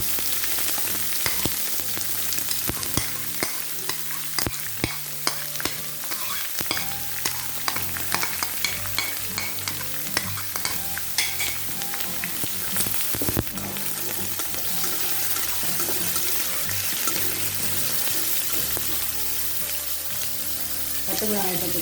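Onions added to browned chana dal fry steadily in a hot pan for Tamil idli gosthu, a continuous close sizzle with scattered stirring scrapes and pops throughout, no talking.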